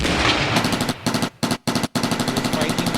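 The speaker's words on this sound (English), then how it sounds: "you can program the keys with the bang of the gun." Gunfire sound effect played from a keyboard workstation, loud rapid machine-gun bursts with brief gaps between volleys, close and dense.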